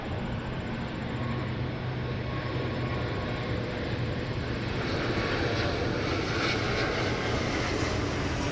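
An Air Canada Airbus A330 jet inbound from Frankfurt lands at Montréal-Trudeau airport, its engines a steady broadband roar that swells slightly toward the end, continuous and fairly distant with no talk.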